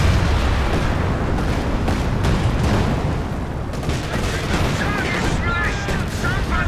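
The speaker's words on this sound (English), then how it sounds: "these land mattresses really getting the job done. Rocket artillery so strong on this tiny map" Dense, continuous battlefield barrage of Land Mattress rocket artillery salvos in Company of Heroes 2, a 2v2 match on a tiny map, with overlapping booms and crackling blasts rolling steadily and loudly throughout.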